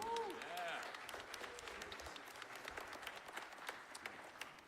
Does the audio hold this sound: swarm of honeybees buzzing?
no